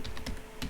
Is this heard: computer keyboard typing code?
yes